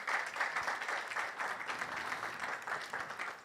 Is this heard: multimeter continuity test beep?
no